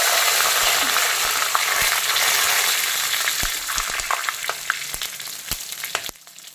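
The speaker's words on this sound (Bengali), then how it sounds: "তো এখন দিয়ে দিচ্ছি গোটা মশলা" Whole garam masala and cumin seeds crackle in hot oil, a dense, loud sizzle that gradually thins out into scattered pops and sharp spits near the end.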